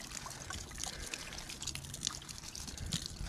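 A can of Ghost Energy drink is poured into garden soil beside a watermelon plant, giving a soft, continuous trickle and splash at close range with no talking.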